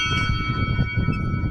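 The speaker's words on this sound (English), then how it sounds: "let's give this bell a ring." A bell at the top station of the Vogel cable car above Bohinj, Slovenia, rung by hand, giving a loud, close, ringing metallic tone with sustained overtones and a few struck pulses.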